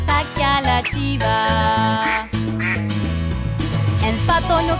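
A cartoonish duck quacks repeatedly inside a Spanish-language children's song, the quacks sounding up front over bright, busy music.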